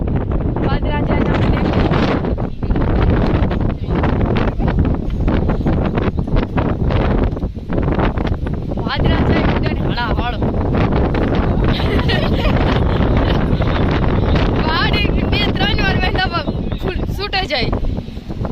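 Strong wind roaring across a mountaintop on a sunrise trek, buffeting the microphone in a loud, continuous rush with gusty swells, while people talk faintly underneath.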